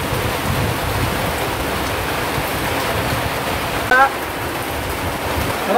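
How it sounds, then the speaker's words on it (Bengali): Heavy monsoon rain pours steadily while people shelter on a trip from Kolkata to the Sundarbans, a loud, continuous roaring hiss with a brief voice rising partway through. "এখানে আসার পরে দেখছি বৃষ্টি আরও বেড়ে গেছে।"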